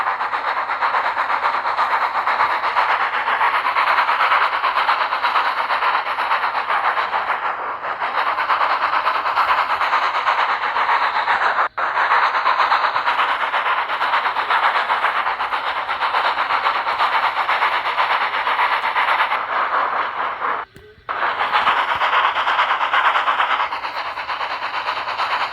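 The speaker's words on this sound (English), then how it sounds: "Sir Topham Hatt came and told Percy he had to pull a special goods train." A goods train rumbles steadily along the rails for the whole stretch, a loud continuous roar with rhythmic clatter and a brief dip near the end.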